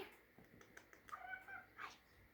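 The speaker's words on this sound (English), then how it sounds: "Hey, here comes the kitty cat." A house cat meows several times, short rising cries close by in a quiet indoor room.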